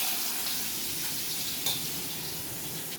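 Onions with cumin hiss in a hot pan, a steady, close sizzle filling the clip with no talk over it.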